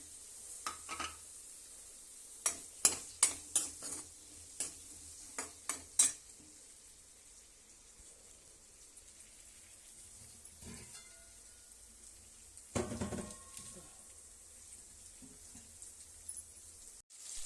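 Onions fry in oil in a kadai, with a faint steady sizzle broken by clusters of sharp spoon clicks and scrapes against the pan as they are stirred. Nobody speaks.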